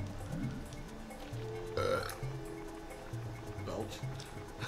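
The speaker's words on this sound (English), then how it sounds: "Belch." Loud, drawn-out burp in the middle, with other short gurgling, belching noises around it, mixed with game sounds and a low repeating tone.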